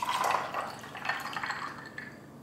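Water trickles and splashes into a glass to make cold brew coffee, a faint, uneven liquid pour with small drips and bubbling that tapers off, with no talking.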